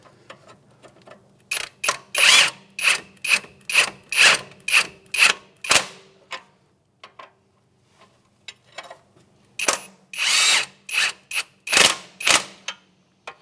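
A power tool snugs up the 24 mm strut bolts during a strut and spring assembly replacement on a 2007–2013 Acura MDX. Close, loud ratcheting bursts come in two rapid series separated by a pause.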